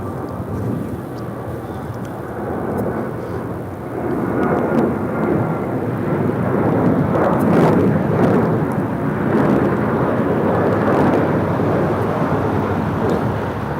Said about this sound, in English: This is Alaska Airlines 1430 taking off to Los Cabos on a 737-800.